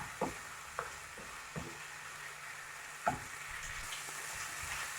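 Vegetables caramelizing in a pan, a faint steady sizzle with occasional soft clicks and scrapes of stirring.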